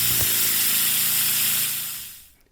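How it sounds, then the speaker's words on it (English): A homemade pneumatic piston device built as a Fremen thumper reciprocates rapidly, making a steady buzzing vibration with hissing air rather than distinct impacts, running loud and close before tapering off toward the end. "The piston was definitely reciprocating, but it wasn't creating distinct impacts."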